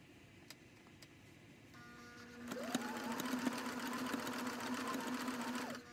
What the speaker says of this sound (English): So let's get to sewing the blanket.